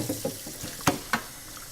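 Cold water runs from a tap into a sink while frozen calamari is being cleaned outdoors, a soft, close splashing flow broken by two brief sharper splashes.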